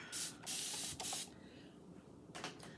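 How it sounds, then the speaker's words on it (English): A spray bottle fires several short hissing bursts up close, two in quick succession, then a pause and a final spritz. "spray this down"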